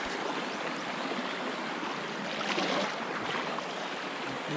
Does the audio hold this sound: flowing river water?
yes